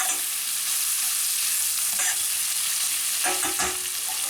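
Garlic stirred as it fries in a pan for spicy tomato baked beans, a steady close sizzle with brief scraping stirs near the end, no talking.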